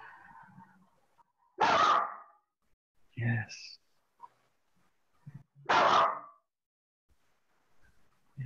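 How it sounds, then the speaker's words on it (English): A dog gives two sharp, loud barks a few seconds apart, with quiet murmured talk and short spoken replies between them in an otherwise still room. "A nice, sharp bark your dog has."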